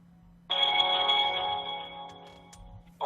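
A telephone ringtone plays loud and alone in a Korean sports talk broadcast, a sustained tonal ring starting abruptly and holding for about two and a half seconds before cutting off.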